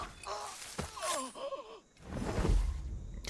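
Characters gasping in Assassin's Creed Black Flag: a few close, breathy gasps and groaning vocal sounds, followed by a rush of airy noise and low background game sound.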